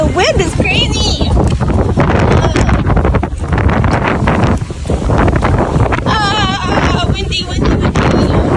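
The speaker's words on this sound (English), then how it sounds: "The wind is crazy." Strong wind at a beach roars and buffets the microphone continuously and loudly throughout, with people talking underneath.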